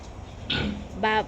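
Two short grunts from a sow, close up, with a brief pause between them over a quiet background.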